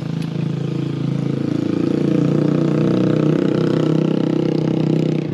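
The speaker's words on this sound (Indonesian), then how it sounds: "Bentar, ada suara motor dulu lewat." A motorcycle engine drones steadily nearby, its low rumble swelling slightly as it passes, loud and continuous without speech.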